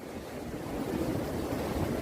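Wind gusting outdoors in a Cornish cottage garden, a steady broadband rush that builds slightly louder partway through and holds, with no voices.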